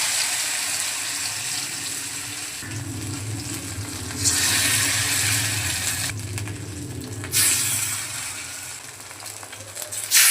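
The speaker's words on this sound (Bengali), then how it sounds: "তেলের মধ্যে দিয়ে দিচ্ছি।" Five-greens fritters frying in hot oil, a steady sizzle and crackle that swells in louder bursts partway through, with a low kitchen hum underneath and no talking.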